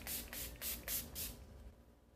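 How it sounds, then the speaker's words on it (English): Setting spray misted onto a face in several quick hissing bursts, about five short sprays in a row, close and soft, with no talk. "I wanna use setting spray right now"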